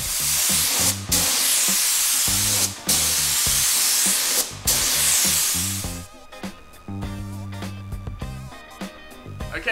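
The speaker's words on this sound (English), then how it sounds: "I'm going to crank the pressure up, spray the bottom half, and see if we can tell the difference." A paint spray gun at high pressure hisses in three long, loud bursts across a panel, with short pauses between them, before the hiss stops and quieter background sounds remain.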